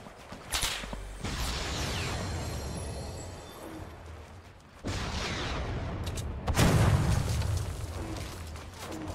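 Gunfire in the video game Fortnite comes as loud, dense volleys of shots and booming blasts, with sharp bursts breaking into a sustained roar.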